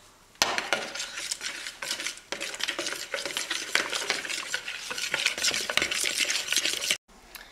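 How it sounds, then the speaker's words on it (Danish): Scrambled eggs and sausages being stirred in a pan, a steady scraping and clinking of utensil against the pan with light sizzling, loud and close throughout, stopping abruptly near the end. "Og så skal det egentlig bare røres rundt."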